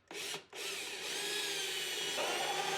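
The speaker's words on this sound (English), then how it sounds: "So we're going to go ahead and get that drilled in." A power drill fitted with a step bit bores a 13/16 inch hole through the plastic hull of a Native Slayer Max fishing kayak, with a steady close whirring grind after a brief start and pause.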